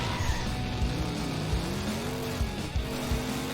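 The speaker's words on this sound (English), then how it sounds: "You can see the Canyon Arrow sliding all over the place, as it tends to do." The Canyon Arrow car skids and slides in The Simpsons: Hit & Run, tires squealing in wavering tones over a loud continuous engine roar with game sounds.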